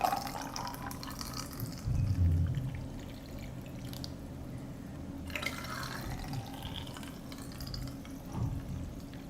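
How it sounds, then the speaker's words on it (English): Cold water poured into a jar packed with cut cucumbers and vinegar for crispy pickles, a steady liquid pour running throughout with a fuller gurgle early on, close and moderately loud. "I pour cold water into the jar to cover the cucumber."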